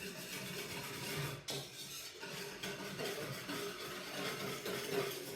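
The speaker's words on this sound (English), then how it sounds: "we'll whisk that in" A whisk stirs ingredients in a bowl while making donair sauce, a steady soft scraping and clinking that runs continuously at low volume.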